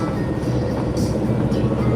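A train passes as a loud, steady broadband rumble with rolling low-end roar, filling the whole moment at close range with no break.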